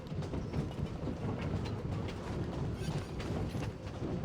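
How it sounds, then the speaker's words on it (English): Train rolling along rails in the Genshin Impact video game, a steady rumbling clatter with faint rhythmic clicks, moderately quiet and continuous with no talk. "I got on the train."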